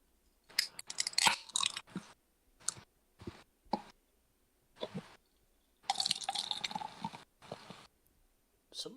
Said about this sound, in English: Somebody's pouring a cocktail.